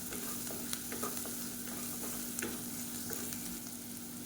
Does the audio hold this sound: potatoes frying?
yes